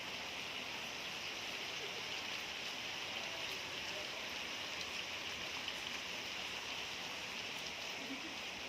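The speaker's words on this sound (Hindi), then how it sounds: "बारिश ऐसे होती है" Steady rain falls outdoors during the monsoon season, a constant even hiss of drops on surfaces, fairly close and uninterrupted, with no talk over it.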